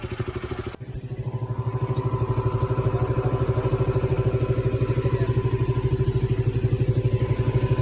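A KTM RC 200 motorcycle engine runs at a steady idle close by, a brief clatter near the start giving way to an even, pulsing single-cylinder thrum that holds to the end.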